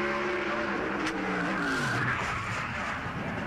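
A 2003 NASCAR Winston Cup stock car gets loose and spins on track, engine roar dropping in pitch as tires squeal and skid, loud and close for a few seconds.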